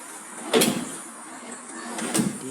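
A wooden drawer box slides in and out on newly installed drawer runners, two smooth rushing strokes with a soft bump at each end, close by, with no talking.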